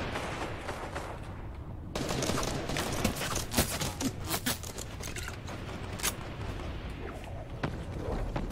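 Rifle shots in the Fortnite battle royale game ring out as sharp repeated cracks over busy game noise, fairly close and punchy, with a voice now and then.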